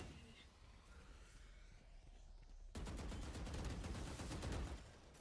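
Gunfire in Valorant starts abruptly midway as a dense, rapid burst of shots that stays loud to the end, after a quieter stretch of game ambience with faint speech.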